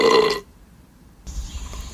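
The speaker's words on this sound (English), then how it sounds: "tried to make a tune out of burping." A loud, drawn-out burp, then a brief pause before some muffled background noise and a faint tone.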